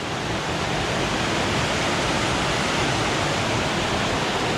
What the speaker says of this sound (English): There's your falls.